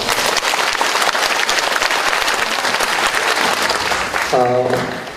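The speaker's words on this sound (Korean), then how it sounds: "한번 잘해보라고 격려의 박수 한번 부탁드리겠습니다" Audience applause at a 2018 admissions briefing at Kyungshin High School. Loud, sustained clapping fills the hall for over four seconds, then a voice starts speaking as the applause fades.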